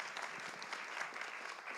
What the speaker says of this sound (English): why don't we give a round of applause to these fine gals up here